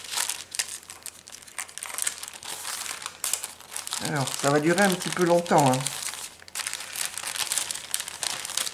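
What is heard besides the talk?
paper crumpling while unwrapping a haul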